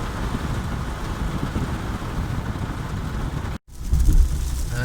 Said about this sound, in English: the heaviest rain I've possibly ever seen in my life